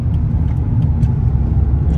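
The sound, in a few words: Dubai road traffic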